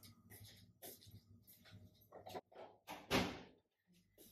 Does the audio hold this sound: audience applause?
no